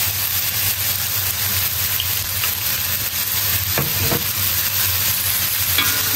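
Bean sprouts stir-fried with oyster sauce in a hot pan, a loud, steady close sizzle with occasional scraping of the spatula throughout.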